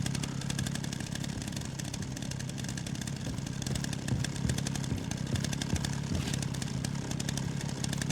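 A chainsaw from the Resident Evil 9 Requiem video game, set in a hospital, runs in a continuous rough, rattling engine drone at steady loudness with no break and no talking.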